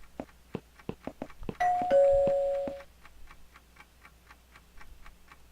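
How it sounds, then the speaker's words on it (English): A reception desk bell in the video game Downfall rings out in two quick, clear dings that hang and fade over about a second, set against a steady ticking clock with no talking. "Bell that calls the receptionist."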